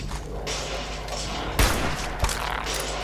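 Shotgun blasts in the video game Fallout 76: two sharp, loud booms about half a second apart over a steady background hum of game ambience.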